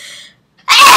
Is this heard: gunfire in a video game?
no